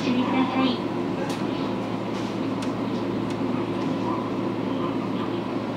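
Steady interior rumble and rattle of the SL Hitoyoshi steam train riding the JR Kyushu Kagoshima line, a continuous even drone with faint murmuring voices beneath it.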